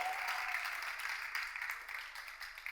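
Studio audience applause on a French-language reality TV show, a continuous wash of many hands clapping, heard faintly and at a distance, without voices over it.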